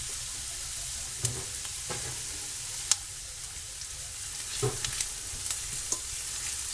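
Onions softening in a pot give a quiet, steady low sizzle, broken by a few sharp clinks and scrapes of a spoon stirring at irregular intervals; nearby and faint, with no voices.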